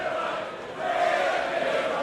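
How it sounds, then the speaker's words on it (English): Darts crowd in an arena cheering and roaring steadily to lift Scotland's number one player, a continuous broad wash of voices that swells slightly midway, heard at a distance without commentary. "And the crowd trying to lift Scotland's number 1."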